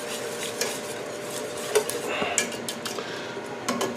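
A creamy pesto sauce of fresh basil and cream is whisked in a pan, giving steady soft scraping and stirring with a few light metallic clinks against the pan, close and fairly quiet.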